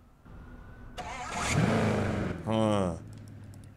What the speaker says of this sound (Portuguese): vamos ligar o motor do bichão